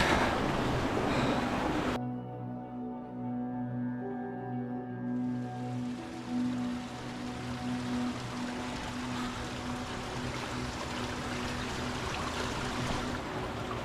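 Steady rushing water from a spring fills a large echoing cave chamber in Oak Creek Canyon near Sedona, a continuous broad hiss with a low hum underneath, no voices.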